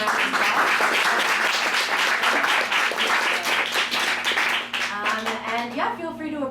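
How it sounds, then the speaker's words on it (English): An audience at an evening event on women leading innovation claps for the speakers, with dense steady applause that thins out toward the end as a voice begins talking over it. "Let's give them a round of applause."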